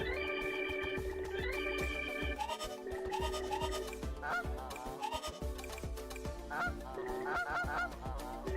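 Goose honks from a Sonic Racing collab video game ring out repeatedly over busy game music, loud and close, with stacked harmonic calls recurring throughout.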